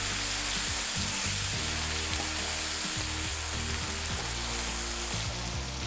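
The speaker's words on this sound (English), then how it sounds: "And then I'm going to go in with the green beans. Wow. Give those a good stir." Steady loud sizzle of green beans frying in a hot pan, with scraping clatter from stirring throughout.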